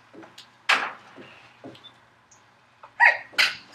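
A single sharp sneeze bursts out during a classroom maths lecture, loud and close, among scattered small noises and a couple of later bursts.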